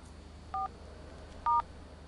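Two short telephone keypad dialing tones beep about a second apart, clear and isolated against a quiet indoor background.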